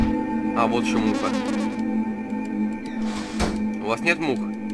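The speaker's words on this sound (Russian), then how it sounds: "А вот еще муха." A fly buzzes in the game Bad Dream: Graveyard, a thin wavering drone that rises and falls while a person talks over it.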